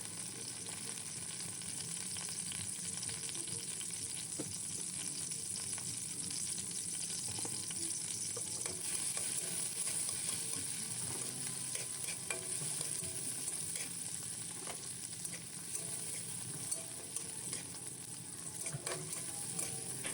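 Sliced onion, garlic and tomato sauté in a pan with a steady, dense sizzle that runs unbroken throughout, close and even, with faint stirring scrapes and no talking.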